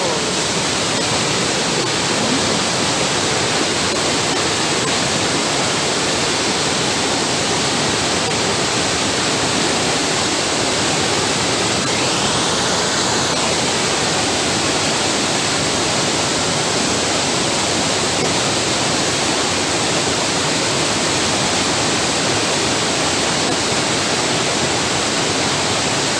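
Waterfall at Torboll in Scotland roaring as a constant, dense broadband rush of falling water, loud and close without letup for the whole stretch.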